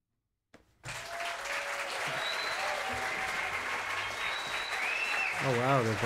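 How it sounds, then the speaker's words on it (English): Applause from remote viewers watching a livestream at home, relayed as a live feed: a sudden onset after brief silence, then sustained, dense clapping and crowd noise at steady level, with a voice and some whistling tones over it. "I've got a live feed of all of the applause from the rooms where people are watching this on their tellies"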